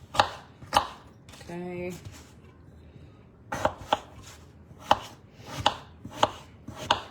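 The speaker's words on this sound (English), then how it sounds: "I'm going to cut the potato up" A potato being cut on a board gives a series of sharp, close knife chops in uneven bursts. A short tonal sound sits in the middle, and a voice briefly speaks once.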